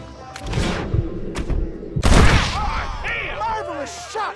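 Gunshots in Red Dead Redemption on Xbox Series X: loud, sharp blasts with a heavy burst near the middle of a Western standoff, mixed with game voices and whistling tones.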